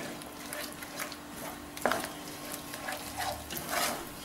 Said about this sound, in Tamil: வேக வச்சுக்கிட்டு இந்த மாதிரி கிண்டணும்.